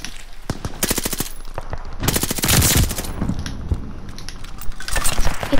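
Rapid automatic gunfire from the Call of Duty: Vanguard video game, dense close bursts of machine-gun shots firing almost continuously, loud and alone without talk.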